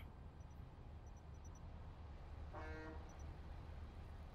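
A single short vehicle horn honk sounds in the online shooter Planetside 2, rising briefly above a steady wash of game background noise.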